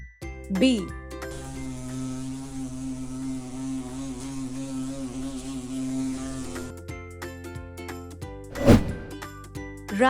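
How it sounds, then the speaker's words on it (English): Bee buzzing steadily and close for several seconds, a continuous droning hum with a faint wavering pitch, ending before a short chime and scattered clicks. "Bee."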